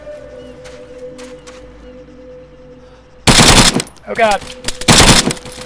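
Loud automatic gunfire in the military shooter Arma 3 Epoch breaks out suddenly after a quiet hum, coming in several close, intense bursts, and a voice speaks in between them.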